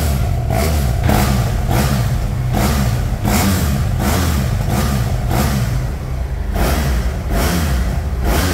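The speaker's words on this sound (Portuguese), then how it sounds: "Eu não sei se pela câmera vai dar para ter uma ideia do tipo de ronco da moto" A two-cylinder motorcycle engine tuned to sound like a four-cylinder revs loudly and close, a continuous throaty roar pulsing in rhythmic surges about every half second, alone without talk.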